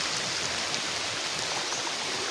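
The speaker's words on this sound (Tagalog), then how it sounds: "hanggang ngayon ulan pa rin buong gabi po wala kaming magandang tulog dahil sa grabe na bagsak ng ulan" Heavy rain pours steadily through the night, a continuous dense hiss of water with no pauses, loud and close, like a downpour flooding canals and creeks.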